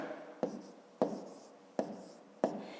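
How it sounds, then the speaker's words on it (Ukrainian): Pen on paper as numbers for a column multiplication are written out: four short, firm strokes at even intervals, each a sharp scratch that trails off softly, close and quiet with no talk. "можна просто в стопчик записуємо 135"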